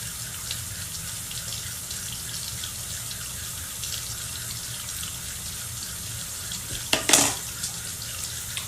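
Tap water running steadily into a sink during hair styling, a constant close hiss throughout with a brief splashy burst near the end as hands move under the stream.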